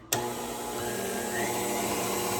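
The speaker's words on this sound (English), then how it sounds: "I'm gonna go and turn this mixer on." An electric kitchen mixer switches on with a sharp start and then whirs steadily, loud and close, with a constant motor hum and no talking.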